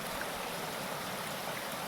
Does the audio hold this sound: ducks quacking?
no